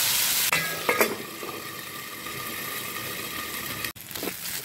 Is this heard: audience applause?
no